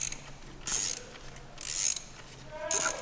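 A ratchet wrench loosens bolts on the valve cover of a BMW F30, giving three short bursts of quick clicking at a steady pace, close up, with quiet pauses between them.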